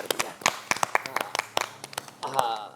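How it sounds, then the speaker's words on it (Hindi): Scattered hand claps at a live televised yoga session with a yoga guru honouring girls who performed yoga, sharp separate claps mixed with someone speaking over them, ending in a brief fuller burst of clapping. "एक बार जोरदार ताली बजा दो।"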